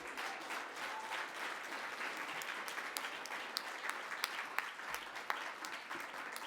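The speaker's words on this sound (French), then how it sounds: "puis ça aussi, ça mérite une main d'applaudissement." An audience claps in steady, dense applause at a Quebec stage event, heard from a little distance, with a few sharper individual claps standing out near the end.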